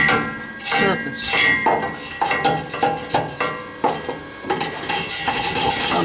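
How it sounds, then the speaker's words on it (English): Flux core weld slag is scraped and chipped off a steel exhaust hanger on a 1998 Ford Ranger, giving close, rapid metallic scraping and clinking strokes in an irregular rhythm while someone talks over them. "you just take a minute or two and clean off the waste product, flux, so you get a little bit better clean surface"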